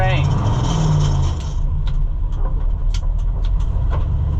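A Ford L880 tandem dump truck's engine labours in low gear, a loud, steady low rumble with a rising whine early on that drops away, then sustained droning punctuated by faint clicks and knocks as it fails to shift up.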